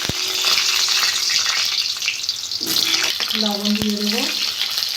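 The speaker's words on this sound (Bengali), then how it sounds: "আলুগুলো ভেজে নেব।" Potatoes sizzling in hot mustard oil in a wok, a loud steady crackle with stirring scrapes while a person briefly talks over it.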